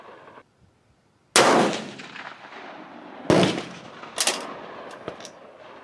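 Two loud, close rifle shots of a 150 grain bullet load crack out with long rolling echoes, then a few smaller bangs and clanks follow in the quieter tail.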